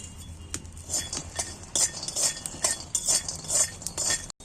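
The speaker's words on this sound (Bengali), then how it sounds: "এখানে দিচ্ছি আমি বাদামগুলো শুকনো খোলা ভেজে নেবো একটু নেড়ে চেড়ে।" Dry peanuts being stirred in a hot pan for a spicy chicken curry, with a run of clinking, scraping metal utensil strokes against the pan, fairly close and steady, with no voices.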